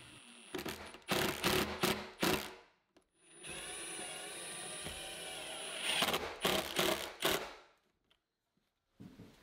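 A drill drives 2.5-inch cabinet screws through a wooden bookcase top, with several ratcheting bursts, a long steady whirring run, then more short bursts and a final brief buzz, all close and alone.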